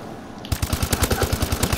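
Rapid automatic fire from a KF5 submachine gun in Call of Duty: Advanced Warfare, starting abruptly and continuing as a steady, loud stream of evenly spaced shots.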